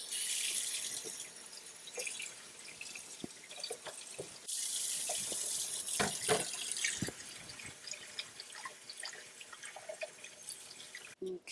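Cold tap water runs steadily into a sink while dyed hand Spanx fabric is rinsed, the splashing shifting and breaking up as the cloth moves under the stream, with a brief cut-off near the end.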